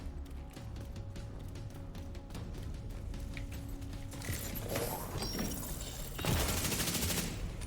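Sniper rifle fire in The Division 2 rings out amid a dense game-combat soundscape, with mechanical clatter and a sharp loud crack near the end over sustained background noise.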